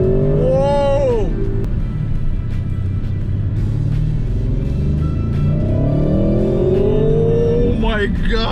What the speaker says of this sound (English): I'm not on a good ground to accelerate, but oh my god, that quattro!